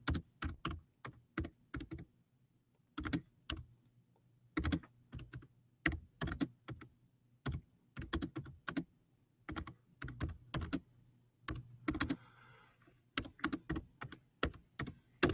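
Someone types on a computer keyboard in irregular bursts of quick, crisp key clicks separated by short pauses, close and fairly quiet against a faint background hum.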